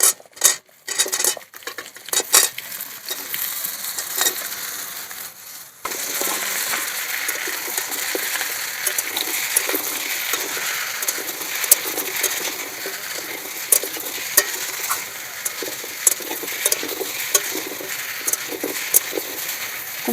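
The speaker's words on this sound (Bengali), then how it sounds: "কুমড়োগুলো দিয়ে ভালো করে ভেজে নেব" Pumpkin and potato pieces fry in a pan while a metal spatula stirs them, giving repeated close scraping and clinking over a steady background of cooking.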